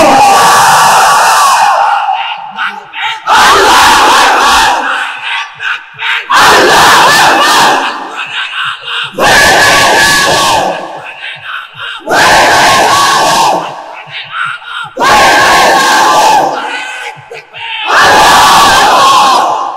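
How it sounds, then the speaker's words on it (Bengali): A large crowd of young men at an Islamic waz gathering chants the takbir, Allahu Akbar, in seven loud, unified bursts with brief pauses between them, close and powerful. "তোমরা তাগড়া যুবকের মতো তাকবীর ধ্বনি দিয়ে বলো আল্লাহু আকবার"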